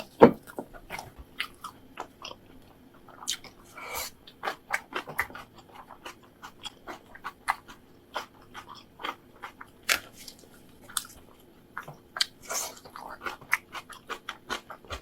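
Spicy kimchi eaten together with boiled pork makes quiet, close crunching bites, irregular and repeated over about fifteen seconds with soft pauses between chews.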